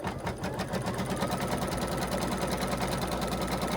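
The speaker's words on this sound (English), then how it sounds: "I'm going to go ahead and stitch that down." A sewing machine stitches down the side pieces of a fabric table runner, running steadily up close with a fast, even mechanical whir.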